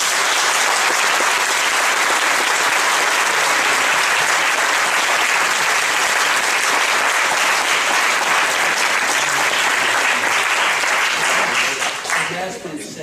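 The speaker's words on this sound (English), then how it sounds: "Let's have a big round of applause for everyone." Loud, dense audience applause fills a hall after a mock trial competition verdict, sustained at full strength for over ten seconds before easing off at the end, with some voices mixed in.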